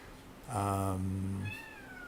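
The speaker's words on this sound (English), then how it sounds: "We have an unhappy cat somewhere, needs attention, if you can hear her." A cat lets out one drawn-out, plaintive meow, close and clear, lasting about a second before fading into quiet room tone.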